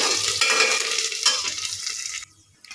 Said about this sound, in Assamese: এতিয়া অকণ ভাজি লওঁ দেই।